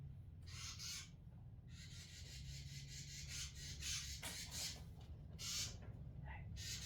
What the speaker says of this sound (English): I got a couple of birds over here that got inside the house, inside the garage.